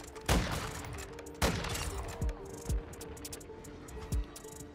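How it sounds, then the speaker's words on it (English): Marksman rifle fire in Modern Warfare 2: two loud, sharp cracks about a second apart, then several lighter thuds and shots over a faint steady background hum. "We're getting hit by marksman rifles with no optics"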